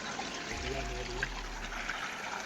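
Water pours and rushes steadily from an overflow toward a street drain, a continuous close wash with a low rumble underneath and voices murmuring faintly in the background.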